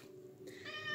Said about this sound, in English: and you can probably hear her meowing in the floor down here